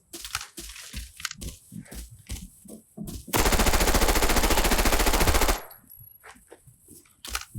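Automatic gunfire in the video game Arena Breakout: one loud, sustained burst of rapid shots lasting about two seconds, set between quieter footsteps and clicks, with no talking.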